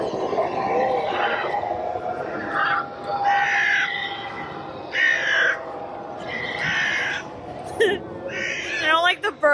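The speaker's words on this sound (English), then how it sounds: "Bird noises." Crow-like cawing and squawking bird calls repeat in a rhythmic series at a Halloween haunt attraction, moderately loud over a crowded queue's background murmur, with people talking nearby.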